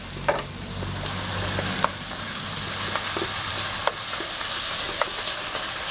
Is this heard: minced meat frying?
yes